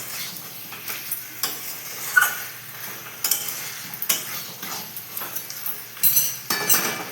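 Chicken and potato curry sizzles in a pot while it is stirred, with a steady frying hiss broken by repeated scrapes and clinks of a utensil against the pan, close and moderately loud with no voices.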